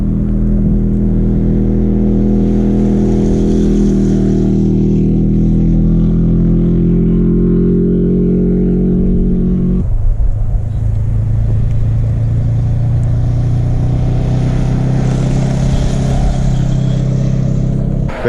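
Vehicles on a Scottish roadside pass close by, a loud sustained engine rumble and road roar with shifting pitch as one vehicle goes by and another follows, no voices heard.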